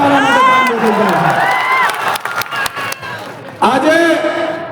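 At an outdoor farmers' mahapanchayat political meeting, a loud crowd shouts and cheers, then breaks into a burst of scattered clapping before raised voices return.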